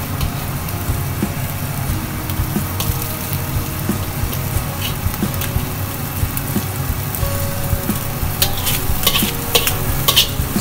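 Shrimp stir-frying in a hot wok, a continuous close sizzle with the rhythmic scrape and clatter of a spatula stirring, growing busier toward the end, no talking.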